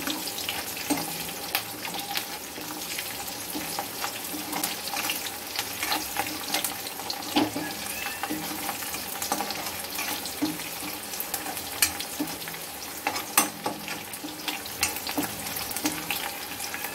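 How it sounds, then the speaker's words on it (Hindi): Triangle-cut onions fry in a pan of oil for restaurant-style kadhai paneer with cashews, a steady dense sizzle with scattered crackles and occasional stirring scrapes, close and continuous with no talk. "प्याज जो मैंने ट्रायंगल में कट की गई थी वो भी हम इसमें डाल देंगे।"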